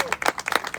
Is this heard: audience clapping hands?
yes